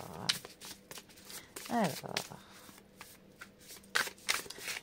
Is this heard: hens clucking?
no